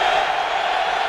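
A dense, steady roar from the stadium crowd at a college football game, Notre Dame at Michigan in 2007, fills the short moment as a continuous wash of noise with no distinct voices standing out.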